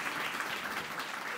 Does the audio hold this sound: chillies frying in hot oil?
no